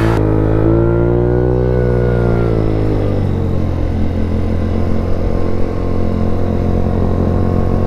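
Scooter engine revving hard during a wheelie ride through a slippery town roundabout, a loud continuous buzzing drone that rises and falls in pitch up close, with no talk over it.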